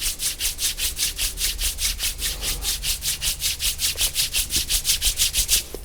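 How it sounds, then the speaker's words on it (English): Two palms rub briskly together during a yoga session, a steady, close, swishing friction repeating about four times per second without pause and with no talking. "Rub your both palm."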